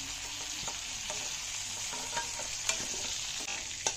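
Fried brinjal pieces stirred and lifted out of hot oil in a pan, a steady close sizzle carrying faint scraping and light clinks from the utensil.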